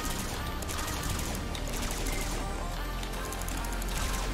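Rapid bursts of gunfire crackle continuously in a dense, loud volley, shots overlapping with little pause.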